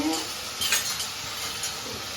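A spoon stirring salted food in a cooking pot, with faint scraping and light sizzle-like texture close by, steady and quiet over about two seconds, no talking.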